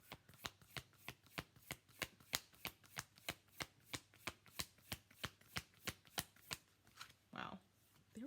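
Tarot cards are shuffled in a steady, rapid rhythm of about twenty crisp riffling snaps, close and fairly quiet, with a brief rustle near the end.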